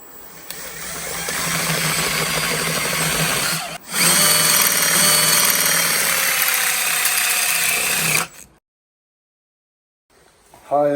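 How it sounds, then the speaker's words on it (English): A power drill bores out a part during a 1984 Foxbody Mustang 5.0 engine install, whining loudly and steadily in two long bursts with a brief pause between them, then cutting off into silence. "just gonna drill this out"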